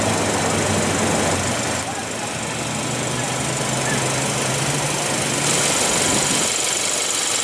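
A 2016 Hyundai Santa Fe Sport's 2.4-liter inline four-cylinder engine runs at a steady, loud idle for the whole stretch, a continuous low hum with broad mechanical noise over it, and no voices on top.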